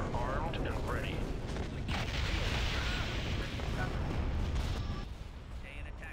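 Rebel fleet opens fire during a Star Wars space battle at Zygerria, a dense continuous roar of booming weapon blasts and rumbling mechanisms, loud throughout, with radio voices speaking over it.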